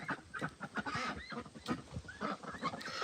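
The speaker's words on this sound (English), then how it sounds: "So the white one is a Pekin duck. That is your standard farm duck." Domestic farm ducks, including a white Pekin duck, quack and honk repeatedly in a busy overlapping chorus, close by, with no speech.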